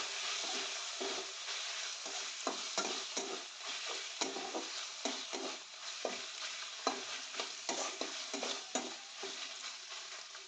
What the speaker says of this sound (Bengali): সয়া সসটা দিয়েও চিকেনটাকে একটু ভেজে নেব।